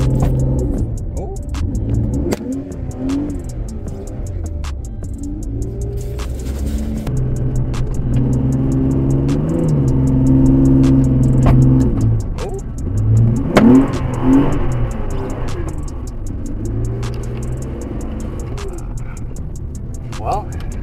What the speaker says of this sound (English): brake and gas, try to get a slide going